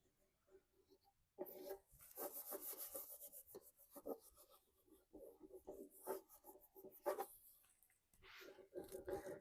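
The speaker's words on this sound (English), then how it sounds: "And then we'll start rubbing." A gilded transfer is rubbed onto a wooden piece being restored, making dry, scratchy rubbing strokes in quick uneven bursts. They are close and fairly quiet, with brief pauses between passes.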